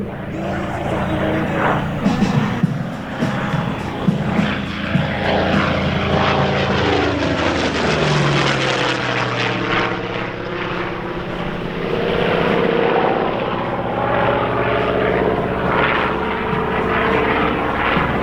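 An A-1 Skyraider propeller warplane's engine drones loudly overhead during a close air support demo, pitch sliding downward as it passes, a sustained roar lasting the whole stretch.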